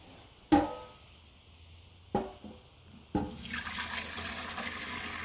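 A few knocks and clunks, then water starts pouring into a hip-bath basin with a steady splashing rush that continues to the end.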